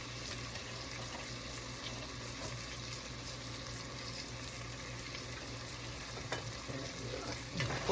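Vegetables for a sausage and corn chowder cook in a pot as all-purpose flour is stirred in, giving a low, even sizzle with soft scraping throughout, steady and unbroken.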